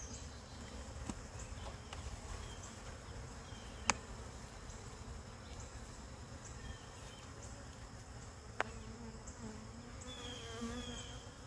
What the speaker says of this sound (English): Not that I'm short on bees, that's for sure.